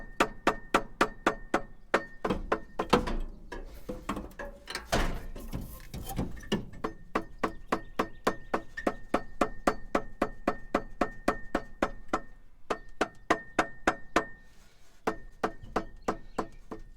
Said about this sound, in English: We're gonna tap it on.